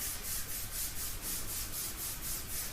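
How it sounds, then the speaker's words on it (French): Hands rub briskly over the calves and lower legs during a seated gentle gym exercise; a steady, close, rhythmic brushing swish repeats at an even pace without pause. "Je frotte bien. On vient devant et puis on va venir frotter au niveau des mollets."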